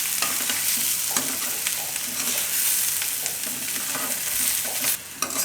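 Cooked potatoes for aloo thecha being stirred and mixed in a hot pan, a continuous sizzle with scraping spatula strokes, loud and close, one clear knock near the end.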